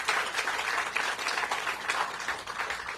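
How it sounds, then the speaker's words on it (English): Outdoor crowd applause at a groundbreaking for recreational fields on the RFK Stadium campus, a brief, even burst of clapping from a moderate-sized group. "So please give them a round of applause for all that they're going to do."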